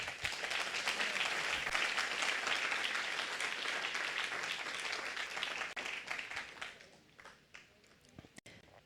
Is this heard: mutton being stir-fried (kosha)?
no